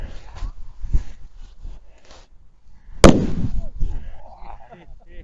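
A firework launches with a sharp bang and a rushing whoosh midway, rising out of steady background chatter and scattered pops on a hilltop on Fireworks Night.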